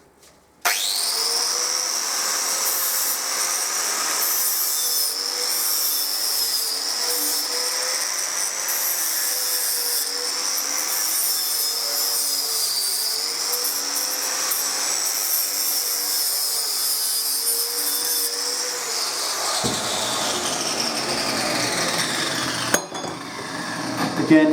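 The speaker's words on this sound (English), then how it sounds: "the 4-inch grinder is incredibly robust" A 4-inch angle grinder with a flat disc files an edge, giving a loud, steady high whine that runs continuously for about twenty seconds before winding down, with a few knocks at the end.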